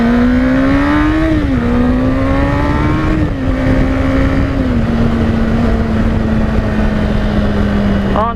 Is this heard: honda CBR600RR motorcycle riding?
yes